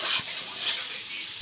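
Peas frying with ginger, cumin, chili and tomato in a pan give a steady, close hiss of sizzling oil, brief and alone, with a faint stir or scrape near the start and a small knock at the end.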